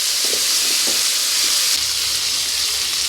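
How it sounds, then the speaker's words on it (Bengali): Cut potato frying in hot oil left over from frying fish, a steady loud sizzle and hiss that runs unbroken and close throughout. "এই আলুটাকে ভেজে নেব।"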